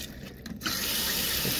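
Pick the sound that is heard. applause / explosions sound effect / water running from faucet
water running from faucet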